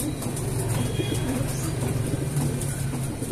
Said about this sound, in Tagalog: Sir Abel, ito yung ibon